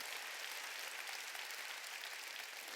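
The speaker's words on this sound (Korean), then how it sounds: "깨달은 사람만 박수." Church congregation clapping during a Wednesday worship service, a dense, even wash of many hands clapping at once, steady and continuous for a few seconds.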